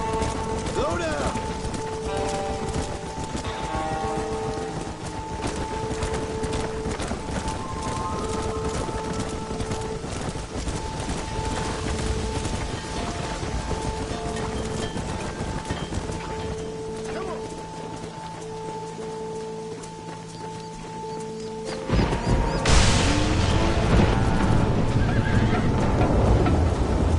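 Horses neigh and whinny amid galloping hoofbeats in a Red Dead Redemption stampede, steady and close throughout with music tones, then a sudden louder burst of rushing hooves near the end; voices shout over the herd.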